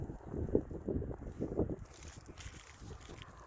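Outdoors in a field, gusts of wind buffet the microphone in low rumbling bursts that ease off toward the end, with no talk.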